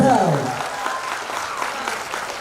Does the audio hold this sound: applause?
yes